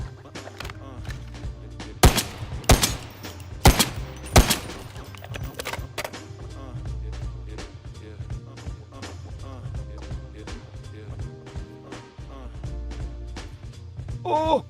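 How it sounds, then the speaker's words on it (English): Loud gunshots from a gun in the video game Delta Force, several sharp single reports clustered early, then a steadier run of quicker, lighter shots, with a voice talking over the firing. "See how it sounds. I think people are going to put suppressors on this gun just so it's not so loud."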